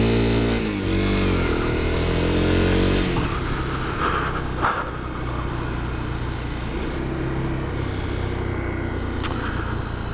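Honda CRF 250L dual sport motorcycle in a gravel pit, its single-cylinder engine revving up and then settling to a steady close, loud idle-to-cruise rumble with wind noise.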